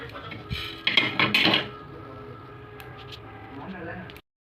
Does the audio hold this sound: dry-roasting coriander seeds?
yes